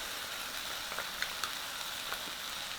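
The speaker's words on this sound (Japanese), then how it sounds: "全体的にほんのり炒まってきたらここで玉ねぎを入れます" Porcini mushrooms sautéing in a pan as onions go in: a steady, close sizzle and hiss broken by small crackles and light pops, with no voices.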